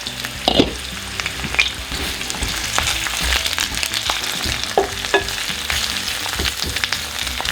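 Radish and onion sautéing over high heat in a pan, a loud steady close sizzle with occasional scrapes and clatters of stirring, no talking.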